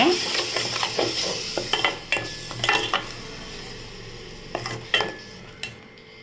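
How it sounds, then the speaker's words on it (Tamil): Ground tomato sautés in a pan for an egg curry, with a low sizzle running underneath. A spoon stirs it in repeated close scraping and clinking strokes, bunched in bursts with short gaps. "நம்ம அரைச்ச தக்காளி பழத்தை இப்போ சேர்த்துக்கலாம் சேர்த்து நல்லா வதக்கிக்கோங்க"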